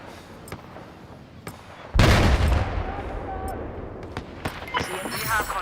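Automatic gunfire from an M1 Abrams tank's machine gun in the game Battlefield 4, loud bursts and sharp cracks starting abruptly and continuing in rapid volleys, with scattered shots and game effects around it.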